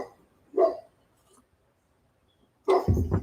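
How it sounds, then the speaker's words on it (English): A dog named Jack barks twice, a short distant bark followed by a pause and then a louder, sharper bark, with quiet between them. "He's barking at something."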